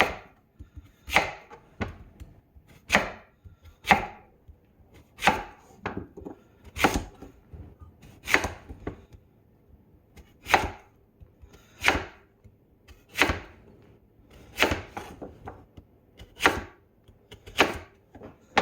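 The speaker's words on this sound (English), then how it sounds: "I'm just going to cut it into slices" A knife slicing food into pieces on a cutting board for a curry: sharp, evenly spaced chops, about one every second, close and clear with no talking.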